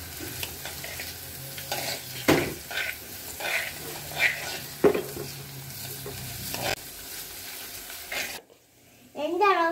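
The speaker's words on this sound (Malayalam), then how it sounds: "ഇത് നന്നായിട്ട് ഇനി വഴറ്റണം." Ingredients sautéing in a pan for a fish-free curry, with a soft constant sizzle and repeated scraping, stirring strokes of a spoon against the pan, close by; the sizzle cuts out near the end before a brief burst of other sound.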